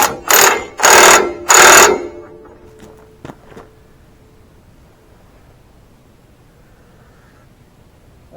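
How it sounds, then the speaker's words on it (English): A power tool runs a bolt down snug while reassembling a D-6 cylinder, giving three short, loud whirring bursts close by, followed by a couple of clicks and then near quiet. "we'll run it down until it's snug"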